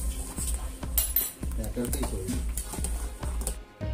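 A spoon stirring custard in a metal pan, with repeated scraping clinks in a steady rhythm, close and clear, running the whole time and stopping abruptly at the end.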